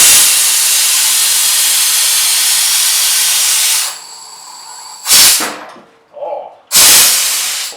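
A bagged crew cab Chevrolet Silverado dumps its air suspension with a loud, sustained hiss of escaping air, then a few shorter sharp bursts follow; someone briefly exclaims.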